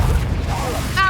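A Confringo fire spell blasting in the Hogwarts Legacy video game: a short, heavy booming impact with a low rumbling burst, followed by a brief bright ringing tail.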